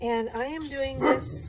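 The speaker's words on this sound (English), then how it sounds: "sorry, that's my dog" A pet dog barks and yips in a home with a bright, rising whimpering quality, several short barks mixed over someone speaking.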